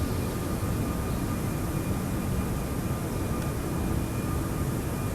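Steady, loud engine and airflow drone of a Toliss A340-600 Lufthansa airliner climbing out of Munich in the X-Plane 12 flight simulator, an even broadband roar with no change throughout.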